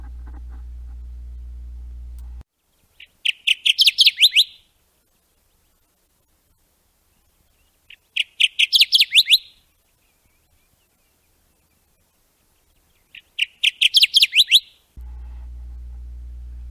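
A bright, rapid Kirtland's warbler song repeats three times, each burst a quick run of loud chirping notes, separated by silence with low hum at start and end.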